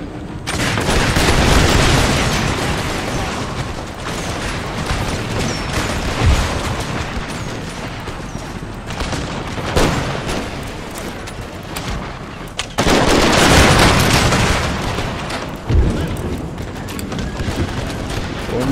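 Musket volleys crack out in an Empire: Total War battle, dense, loud rolling gunfire in repeated bursts with a sharp fresh volley about two-thirds through, booming throughout with little pause.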